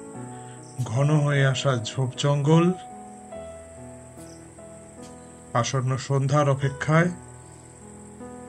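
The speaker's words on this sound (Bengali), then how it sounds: "ঝিঝি ডাকছে পাশের জঙ্গল থেকে" Crickets chirping from a forest beside a balcony, a faint high steady trill running throughout beneath a narrator's voice.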